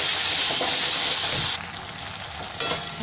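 Tomatoes and onions frying in a pan with salt, a steady loud sizzle that drops to a quieter crackle halfway through, with a brief stirring scrape near the end.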